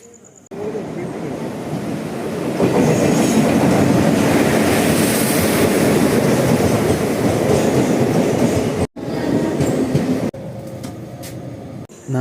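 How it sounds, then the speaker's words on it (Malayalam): The Mangalore–Thiruvananthapuram Malabar Express pulls into platform 3 with a loud, sustained rumble and rattle of wheels and carriages that fills the scene, then cuts briefly before a quieter stretch of rolling noise. "മംഗലാപുരം തിരുവനന്തപുരം മലബാർ എക്സ്പ്രസ് 3ാമത്തെ പ്ലാറ്റ്ഫോമിലേക്ക് അല്പസമയത്തിനുള്ളിൽ എത്തിച്ചേരുന്നതാണ്"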